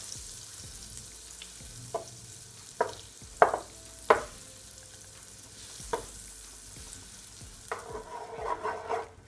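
Butter melts in a pan on a stove set to low heat with a faint, steady sizzle, broken by a few sharp utensil knocks and a busier crackle near the end.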